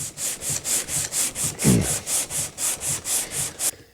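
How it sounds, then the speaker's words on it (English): A flatboard sander is pushed back and forth over a wooden guitar body, producing about fourteen rhythmic rasping strokes, close and loud, evenly paced with no talking. "Take our flatboard sander again. I'm going to sand on this for just a few strokes."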